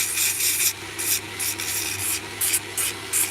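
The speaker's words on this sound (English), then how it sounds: "Anybody who's regular here will know all about this sander." Handheld power sander working wood during a carving session, a steady rasping hiss broken into repeated short strokes about every half second, close and fairly loud with no talking.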